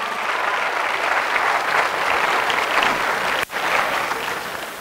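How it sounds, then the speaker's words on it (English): Audience applause at a high school hypnosis show, loud continuous clapping from a full room with a brief dip near the end before it swells again. "A round of applause for these guys."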